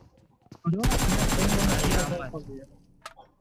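A fast, loud automatic burst of gunfire in BGMI rattles for more than a second as a continuous stream of close shots, with a few faint voice sounds around it.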